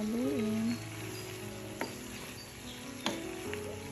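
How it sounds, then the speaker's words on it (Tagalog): Squid adobo sizzles steadily in a pan while being stirred, with a soft scrape of the utensil and a couple of sharp clinks against the pan. "Halu-haluin."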